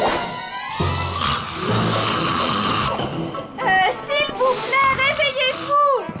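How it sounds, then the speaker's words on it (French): Cartoon character in a zombie hotel snoring loudly like a boar, with rasping, wavering snorts and whistling breaths, mixed with animated sound effects, while other characters talk over it. "Dame Fedora ronfle comme un sanglier."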